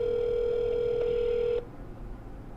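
A phone call to the Secret Service rings unanswered, a loud steady electronic ring tone holding for about a second and a half before cutting off abruptly, leaving quiet line noise.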